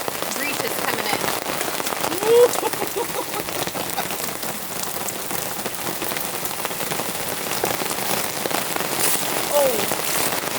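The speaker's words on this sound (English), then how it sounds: "It is downpouring right now." Heavy rain pours onto a camping adventure trailer and its awning during a storm at Beverly Beach State Park on the Oregon coast, a loud, dense, continuous drumming hiss that holds steady throughout.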